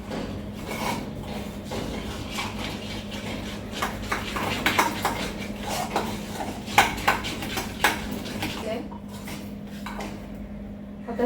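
Fasting dosa batter with salt, curd and water being mixed in a bowl, a run of irregular clinks and scrapes of a spoon against the bowl, fairly close.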